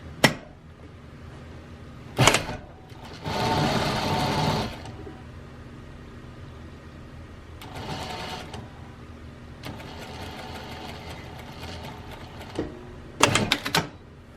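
A sewing machine runs a half-inch seam in several short bursts with pauses between, including quick back stitches at the edges, close and fairly loud.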